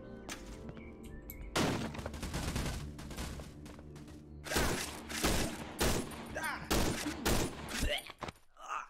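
Gunfire from a weapon in the horror video game Cry of Fear, several loud bursts of rapid shots in irregular clusters over a dim background with faint game ambience.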